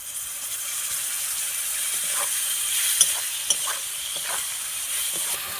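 Spice paste with tomatoes frying for a fish curry, with ginger-garlic paste and turmeric, gives a steady close sizzle and hiss, broken by a few soft stirring scrapes and light clinks, with no talk.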